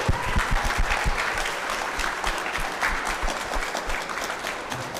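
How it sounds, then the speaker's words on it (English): Audience round of applause for performers at a charity slam poetry event, a dense, steady wash of clapping with a few louder claps up close, sustained for about five seconds. "let's give a round of applause to you all as well as the performers of tonight."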